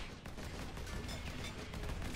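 Twin side-by-side barrels of a heavy gun in a Warhammer 40k game, drum or box magazine fitted, firing a steady rapid stream of paired shots that stays loud and dense without a break.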